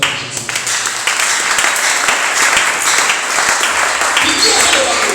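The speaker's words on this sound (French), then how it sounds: "Acclamez-vous pour la gloire de Jésus" A church congregation bursts into loud, sustained applause in praise of Jesus. The dense clapping fills the space evenly, and voices can be heard under it.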